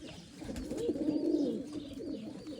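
Mecidiye pigeons of the dönek tumbler breed coo in one soft drawn-out rolling phrase, quiet and close, with no talk over it.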